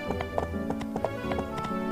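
Horse hooves in the video game My Time at Portia, a quick steady clip-clop of close, crisp hoof strikes in a galloping rhythm over a constant musical background.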